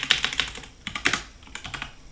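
Quick bursts of keystrokes on a computer keyboard while code is typed, close and crisp, with a short pause between two clusters of taps.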